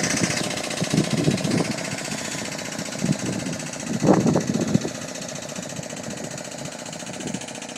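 An air compressor on an aluminum tilt car trailer runs with a steady mechanical chugging drone and irregular bursts of knocking, fairly close and loud, with no talk over it.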